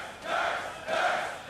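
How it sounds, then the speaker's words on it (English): A local crowd at a 2014 North American League of Legends playoff match swells in two rolling bursts of chanting and cheering in support of Curse, a broad, loud roar heard without any commentary over it. "Sounds like Curse do have the local crowd supporting them."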